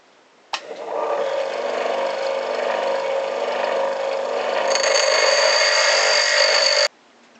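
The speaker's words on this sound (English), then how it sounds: "Found this punch and I'm going to use a grinder to sharpen it up." A grinder sharpens a steel punch into a small cutting chisel, whining steadily and loudly for about six seconds before cutting off abruptly.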